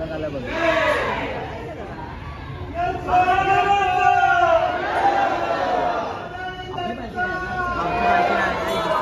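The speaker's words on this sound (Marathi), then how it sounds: "कोणतरी पालखी आली आता सध्या, त्याच्या वर्णावरच चालू आहे, त्याचा जल्लोष चालू आहे" A festive crowd cheers and chatters at a Khandoba temple in Shirdi as a palanquin procession arrives, a dense, continuous hubbub of many voices with rising shouts and calls close by.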